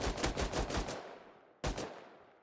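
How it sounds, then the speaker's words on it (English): An M39 rifle in the game Rust fires a quick string of about five sharp shots, then a short pause and one more loud report trailing off. "the M39 rifle shoots to the right"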